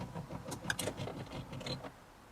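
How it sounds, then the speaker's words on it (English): Seatbelt presenter motor in a BMW E92 335i extending the belt forward, a short mechanical whir and clicking lasting about two seconds, close up, with no talking. "That noise is the seatbelt helper passing it to me."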